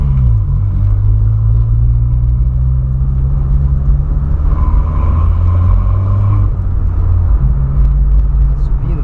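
A Volkswagen Polo's engine and exhaust give a deep, steady rumble from close by, holding a low drone for the whole stretch with slight shifts in pitch and no talking.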